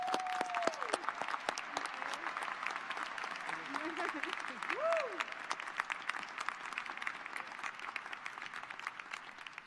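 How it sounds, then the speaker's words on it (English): An audience at a university commencement ceremony gives a sustained round of applause, steady dense clapping heard at a moderate distance, with a brief voice and a few tonal sounds mixed in near the start. "please join me in a round of applause for Dr. Iverson Cabral."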